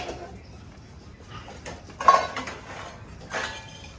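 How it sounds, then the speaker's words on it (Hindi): Household dishes, pots and pans are handled and stacked in a home kitchen, with soft scattered clinks and two louder metallic clatters, fairly close, over a quiet background. "अब भाई बर्तन जचाती हूँ मैं"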